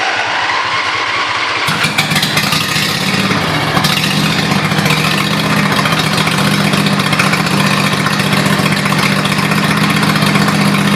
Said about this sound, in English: So it's a Briggs and Stratton 20 horse 2-cylinder.